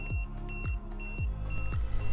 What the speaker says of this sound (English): we got this alarm on our tire pressure monitor that one of our tires is low